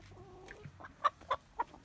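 A chicken clucks softly at close range: three short, distinct clucks in quick succession, preceded by quieter murmuring clucks against a low background, with no talking.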